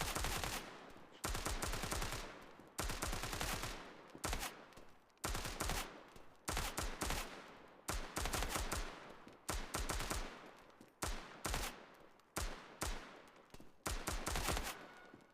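Video-game gunfire in rapid automatic bursts repeats about a dozen times, each a dense rattling volley followed by short pauses, loud and close, with no talking.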